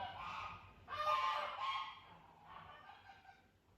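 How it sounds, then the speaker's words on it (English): A flock of geese honks and screams in bursts, loudest in the middle, then trails off into fainter calls over a quiet background. "I have a flock of geese who are screaming so much at the moment"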